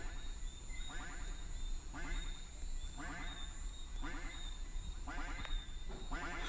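A robot duck in a video game quacks in a steady series of rhythmic, buzzy calls repeating about once a second over constant background noise.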